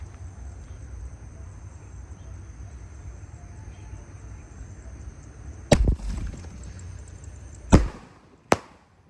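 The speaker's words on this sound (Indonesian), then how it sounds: "Pelontar basoka Roman candle" Roman candle fireworks set off outdoors for New Year celebrations. After a steady hiss of background noise, three sharp, loud launch pops ring out several seconds apart, the second the strongest, each with a short crackling tail.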